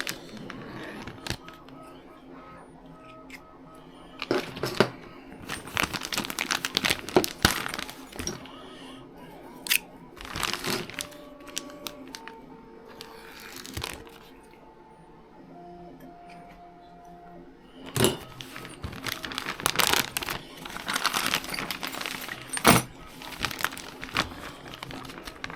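A Traxxas Jato 4x4 RC car box is cut open and unpacked, with scattered crinkling plastic, paper rustling and small clicks and taps at close range, quiet between bursts and no talking.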